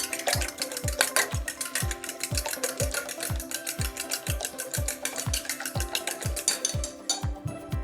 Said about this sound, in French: On va légèrement mélanger.